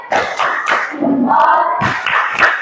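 A school class does a rhythmic clap-and-chant routine, voices shouting in unison between sharp group claps in a short, loud burst.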